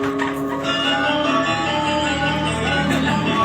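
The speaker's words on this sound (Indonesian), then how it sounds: "Wih, bunyi gamelan weh." Gamelan music plays near a school, with sustained metallic, bell-like tones ringing in layered pitches at a moderate, steady level.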